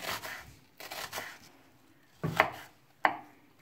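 A knife chops onions finely on a board in quick clustered bursts of taps, then two sharper isolated strikes, close and distinct with quiet gaps between.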